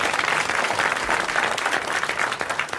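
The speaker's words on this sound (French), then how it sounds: "vous applaudissez Monsieur Nicolas Jacques de Reims," A studio audience applauding steadily on a 1981 French television show, dense clapping sustained at an even level throughout, with no voices standing out.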